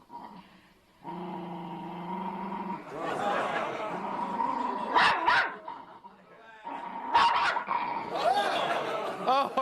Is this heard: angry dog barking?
yes